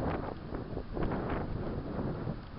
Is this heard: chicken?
no